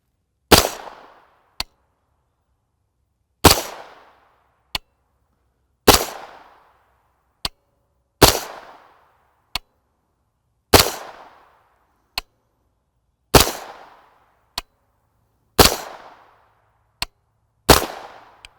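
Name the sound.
9mm pistol-caliber carbine firing Igman 124 grain FMJ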